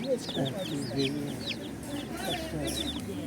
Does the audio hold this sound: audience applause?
no